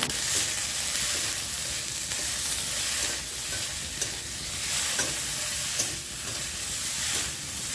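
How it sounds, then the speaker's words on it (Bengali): Okra fries in a pan with turmeric and salt, a steady bright sizzle and hiss as a spatula stirs it, scraping strokes recurring every second or so, close and moderately loud with no talking. "ঢ্যাঁড়সগুলো দিয়ে এবার হালকা একটু ভেজে নেব"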